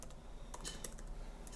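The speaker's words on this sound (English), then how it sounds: "I'm typing with one hand here, so pardon" Someone types on a computer keyboard with only one hand, a close run of irregular clicking keystrokes with short pauses between bursts.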